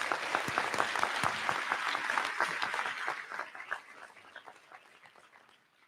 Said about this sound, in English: For that alone, you deserve a round of applause.